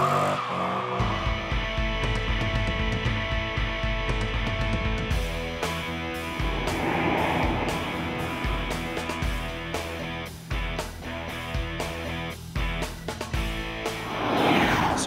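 A Dodge Charger SRT8 laps Darlington Raceway, its engine roaring loud and steady throughout, with tire squeal and shifting engine pitch as it works through the corners, and no talking.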